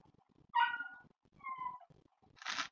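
A dog in the background gives two short whimpering, yelping cries, then a brief noisier bark-like burst, all fairly faint and spaced out over a low indoor murmur.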